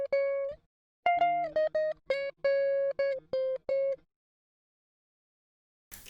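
Clean electric guitar with no effects plays a short staccato melody of about a dozen bright plucked notes over four seconds, followed by silence and a brief burst of noise at the end.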